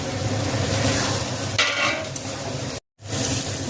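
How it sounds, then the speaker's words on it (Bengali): Pre-fried crabs are stirred and cooked down in a spice masala, with a dense, continuous close sizzle and stirring noise, a brief scrape midway and a short silent cut near the end. "এবার কাঁকড়াগুলো ভেজে রেখেছি, এই কাঁকড়াগুলো এর মধ্যে দিয়ে আবার একটু কষাবো।"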